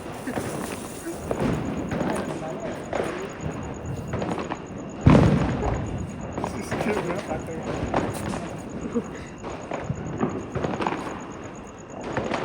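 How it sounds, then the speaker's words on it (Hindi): Diwali firecrackers go off at an evening celebration, giving a scatter of sharp cracks and pops with one louder bang in the middle, amid ongoing crowd noise and talk. "फिर पूजा करने के बाद शाम को हमारा हुआ पटाखे का सेशन शुरू।"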